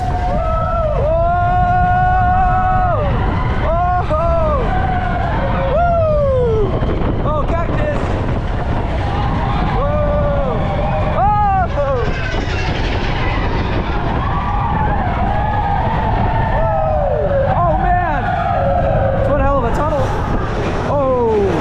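Big Thunder Mountain Railroad, a mine-train roller coaster at Tokyo Disneyland, rattles along loudly with constant track roar and wind rush while riders scream and shout over it throughout.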